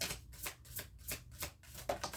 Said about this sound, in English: Last shuffle for guidance.